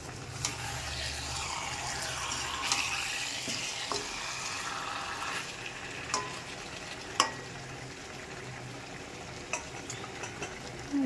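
Chutney frying in a pan, with steady low sizzling and occasional stirring clicks and scrapes heard up close, no talking.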